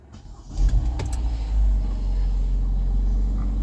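A Kia Sportage engine cranks and catches, then settles into a steady low idle hum that continues close by.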